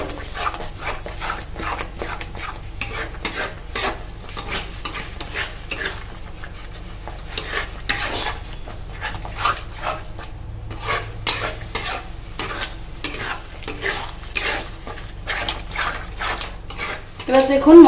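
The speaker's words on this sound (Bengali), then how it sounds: "এবার দইটা দিয়ে কিন্তু আবারও একটু সুন্দর করে কষিয়ে নেবো" Chicken curry spice paste with yogurt is stir-fried in a pan with rapid, rhythmic spatula scraping and clattering over a sizzle, loud and close throughout.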